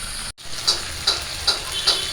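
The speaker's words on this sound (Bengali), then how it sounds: "মাংসটা আমি খুব ভালো করে কষায় নিয়েছি" Meat is sautéed with spices in a pan, a steady close sizzle broken by regular stirring strokes about twice a second after a brief dropout near the start.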